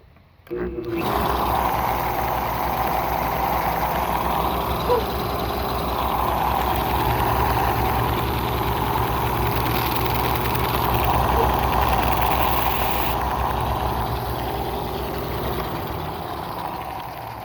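A 2x72 belt grinder runs with an out-of-round, unbalanced wheel turning at about 1,000 RPM, giving a steady, loud motor hum and whir that starts abruptly and holds for the full stretch with no talking.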